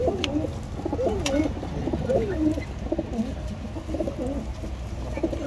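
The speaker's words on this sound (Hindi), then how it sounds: "अभी एक और कबूतर है, वो भी छोड़ रहे हैं" Several pigeons, including newly released ones, coo continuously in soft overlapping rolling calls, close by, with steady outdoor background noise and occasional faint clicks.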